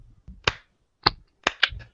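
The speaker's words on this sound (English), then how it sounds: "Is my slow clap processor working?" A slow clap sound effect, four sharp, isolated claps spaced unevenly about half a second apart, crisp and close.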